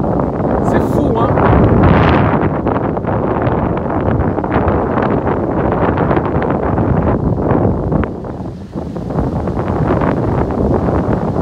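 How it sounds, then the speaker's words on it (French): Strong outdoor wind buffets the microphone at sunset, a loud continuous rumble and roar with gusts. Someone talks over it throughout. "Il y a du vent, hein."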